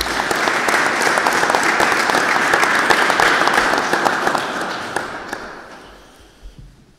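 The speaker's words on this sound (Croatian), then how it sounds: "jednim pljeskom pozdravimo i nagradimo autora ove knjige" An audience at a book promotion applauds the author, a dense, loud burst of clapping from a crowd in a hall that holds steady and then thins and fades out over the final seconds.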